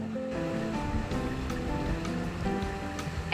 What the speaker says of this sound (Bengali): এখন তেলের মধ্যে এই আলুগুলোকে দিয়ে দেব দিয়ে লাল করে ভেজে নেব